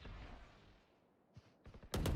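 Short bursts of gunfire in a competitive esports video game match, a few quick sharp shots after a quieter stretch, ending in a loud close rattle.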